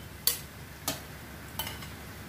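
Three soft, evenly spaced taps sound as boiled, scored eggs go one by one into a pan of quietly simmering Kerala-style roasted egg masala, under a faint background hiss.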